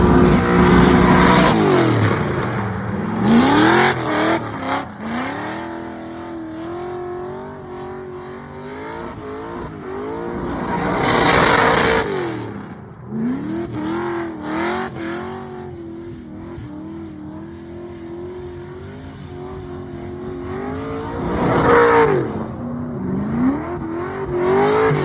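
An LS3 V8-swapped Mazda Miata street drifting, its engine revving hard in repeated rising pulls that drop off between passes, loud and close with harsh high-rev peaks and no talk.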